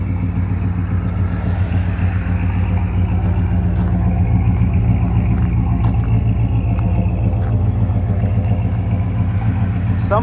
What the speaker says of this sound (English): this gorgeous little 78 Dodge 150 Adventure Club Cab pickup truck